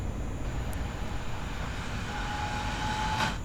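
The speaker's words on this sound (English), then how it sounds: "I've also added like train audio, so you can hear them speed away and slow down" Train in a cartoon-style video game under development, a steady rolling rumble with a rising whine that builds toward the end, loud and continuous, with no one talking.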